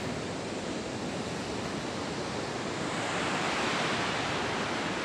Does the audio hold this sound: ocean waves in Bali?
yes